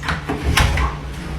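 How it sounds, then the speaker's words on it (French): A door opening indoors at home, a brief creak and clack standing out over a steady low hum, with faint background noise around it. "Et maintenant, je vais ouvrir la porte."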